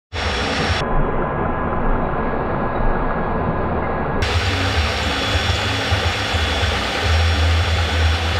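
A small plastic model engine screams continuously at very high speed, a loud, harsh, unbroken whine with a slight change in tone partway through.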